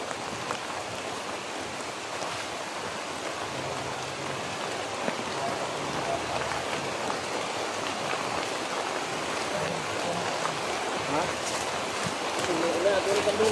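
Steady rain falls on a surface outdoors, a dense, even hiss of drops throughout, with people speaking faintly beneath it.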